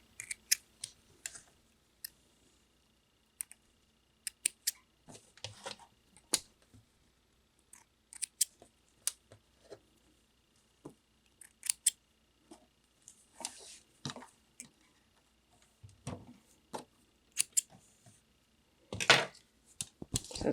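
Scissors trimming threads after sewing, with scattered sharp snips and clicks in short bursts, close and quiet against near silence.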